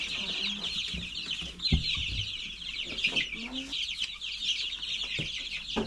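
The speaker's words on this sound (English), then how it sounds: "All chickens, no crowding." Flock of chickens on a New Zealand homestead, many hens clucking and murmuring together in a continuous, close chorus, with occasional sharper squawks and a brief louder cluck standing out.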